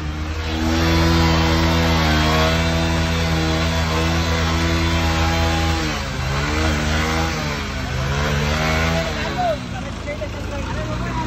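A Maruti Gypsy jeep's engine drones loudly and steadily while off-roading through thick mud, then revs up in a few rising surges around the middle, with voices mixed in.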